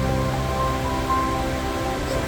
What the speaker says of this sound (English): Oh my goodness, it looks like it's falling straight onto the road here.